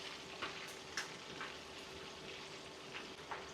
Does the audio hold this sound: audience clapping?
no